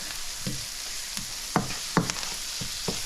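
Onions fry in a pan with bouillon powder, Tajin and paprika for a corned beef fry-up, a steady moderate sizzle broken by several distinct scraping strokes of a spatula, with no talking.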